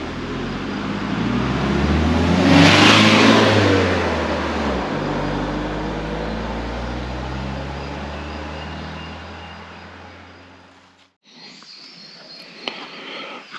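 A car engine, in a car that has broken down on a mountain road, runs loud and close, swelling in a rev near the start and then droning steadily before cutting off abruptly.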